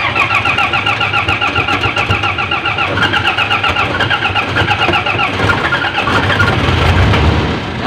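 A car engine cranks and runs during an alternator charging check, a loud close rapid pulsing rumble that holds steady and rises slightly toward the end, with no talk.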